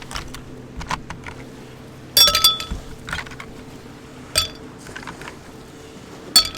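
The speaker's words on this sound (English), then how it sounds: "Put some ice in." Ice cubes drop into a big hurricane glass, producing a series of sharp glassy clinks and rattles, a few louder clusters spaced over several seconds against a quiet background.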